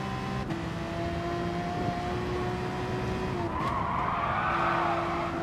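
Race car engine in Gran Turismo Sport drones steadily with a sustained high whine and rising pitch, then shifts with tire squeal and skidding toward the end, loud and close with no talking.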